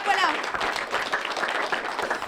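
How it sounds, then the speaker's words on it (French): An audience claps through a live French web TV show, a dense, steady burst of applause that carries on evenly for a couple of seconds. "on peut t'applaudir"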